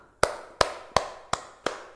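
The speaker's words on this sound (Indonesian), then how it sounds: "Tepuk tangan buat kita semua" Five sharp hand claps spaced evenly about a third of a second apart, each a crisp broadband snap with a short decay, fairly close and alone, in an online music class for eleventh graders.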